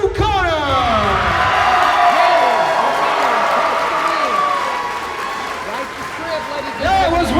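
A dense crowd at an XFA fight event applauds and cheers both fighters after a unanimous decision, with steady clapping and whoops filling the hall while an announcer's voice carries over it.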